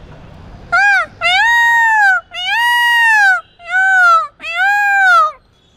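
A man imitates a peacock call with his voice, giving five loud, drawn-out wailing cries in a row, clear and close with short gaps between them.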